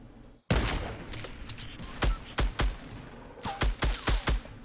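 Gunfire in the video game Fortnite, with an opening burst followed by several sharp, loud shots in uneven clusters, spaced closely near the end.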